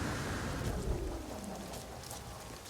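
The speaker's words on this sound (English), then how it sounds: "here's that tropical storm we were threatened with" Tropical storm in the No Man's Sky video game on a lavender-skied swamp planet: steady heavy rain hisses throughout with a low rumble of thunder rolling underneath, continuous and fairly full, no talking.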